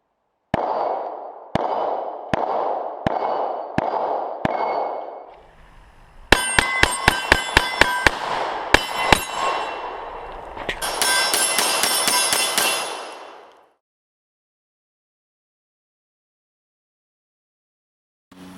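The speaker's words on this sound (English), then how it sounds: "Let's get to shooting the Gen 4 Glock 17." Gen 4 Glock 17 pistol firing on an outdoor range at close targets, a steady string of sharp shots followed by a faster cluster of crisp rapid reports with metallic ringing, then silence.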